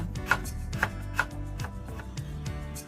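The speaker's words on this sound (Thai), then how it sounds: "จะซอยเป็นแผ่นบางๆและนำไปโขกรวมกันเป็นพริกแกง" A knife slices lemongrass and other Thai curry paste herbs thinly on a cutting board for a straw mushroom and cha-om curry, several crisp, evenly spaced taps over a low steady hum.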